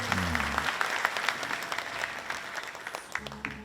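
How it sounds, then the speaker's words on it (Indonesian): An audience claps in steady scattered applause at a Balinese language month closing ceremony in Bali, with speech audible at the start and end. "Tepuk tangan untuk anak yang tadi itu."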